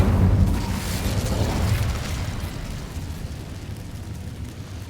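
The Incendio fire spell in Hogwarts Legacy bursts with a loud whooshing roar that swells at once, then trails off into a fading rumbling crackle.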